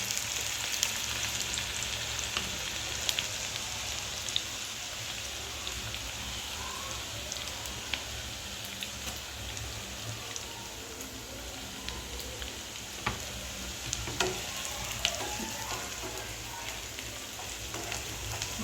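Two medium onions frying for chicken kali mirch, giving a steady, soft sizzle like light rain with scattered small pops and crackles throughout.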